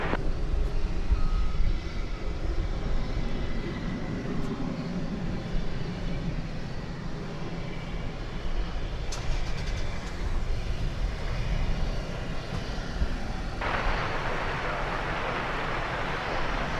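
An Envoy airliner on the runway at DFW Airport gives a steady broad rumble, heard from outdoors at some distance, which swells into a brighter roar near the end.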